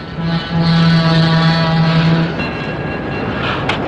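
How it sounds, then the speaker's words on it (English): A train pulls into a station, a loud mechanical rumble with a sustained low whistle-like tone for about two seconds, then a fading rolling clatter and a brief sharp hiss at the end. "It must be our train."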